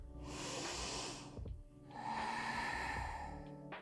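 Two deep, close breaths during a pelvic floor yoga exercise, each a long airy rush lasting over a second with a brief gap between them, heard without any talk.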